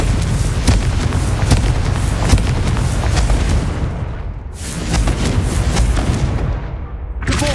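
Repeated Confringo spell explosions in Hogwarts Legacy, with loud continuous booming blasts and crackling debris, briefly easing before more bursts erupt near the end.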